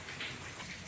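Rain falling steadily during a rainy-season day, a brief dense hiss of drops pattering on surfaces, fairly faint and uniform, with no voices.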